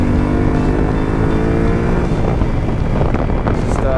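Yamaha Tenere motorcycle under way, easing off and slowing: a loud continuous engine drone with strong wind rush buffeting the microphone throughout, and the engine note gradually dropping.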